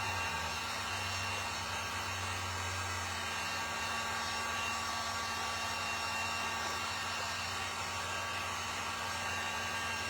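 A hair dryer blows continuously at close range, drying Mod Podge on handmade peppermint and ribbon floral craft picks, a loud steady whir that holds unchanged throughout with no voices.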